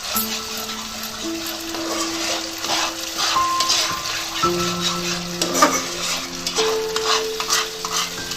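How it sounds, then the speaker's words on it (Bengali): Masala frying in oil with tomato ketchup is stirred in a pan, giving a steady close sizzle with scraping stir strokes throughout and no talking. "এই যে তেল ছাড়ছে আস্তে আস্তে, এবার আমি পনিরগুলো দিয়ে দেবো। এটা কষে গেছে"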